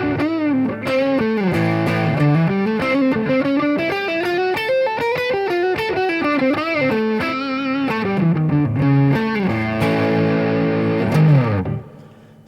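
A Les Paul with John Birch pickups wired in parallel plays a loud, continuous distorted riff, its notes shifting up and down for about eleven seconds before the sound cuts off.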